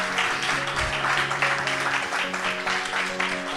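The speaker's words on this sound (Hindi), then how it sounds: "ज़रा ज़ोर से तालियां बजाएं" An audience claps loudly and steadily on request, a dense, continuous wash of applause from a sizable crowd in a hall.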